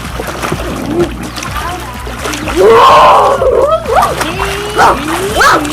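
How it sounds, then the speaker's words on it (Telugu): Water splashes and churns as someone swims in a pool, mixed with excited voices and shouting nearby. "మనం ఈ వాటర్ నింపుకొని మంచిగా స్విమ్మింగ్ చేయొచ్చు"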